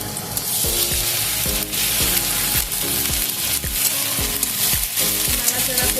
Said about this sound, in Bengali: নাড়াচাড়া করে নেব, আদা রসুনের কাঁচা গন্ধটা যাতে চলে যায়।